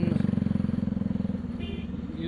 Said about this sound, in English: you can hear this crackle from your exhaust